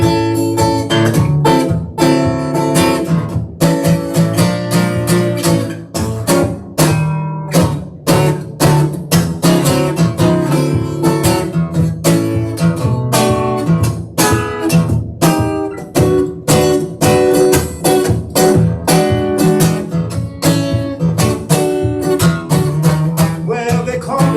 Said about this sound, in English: like Texas, when they play the blues, it sounds jazzy.